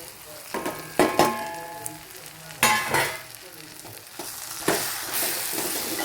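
Spice powders hit hot oil and a sautéed onion mixture for egg curry, giving a soft, continuous sizzle under several sharp scrapes and clanks of a spoon stirring in the pan.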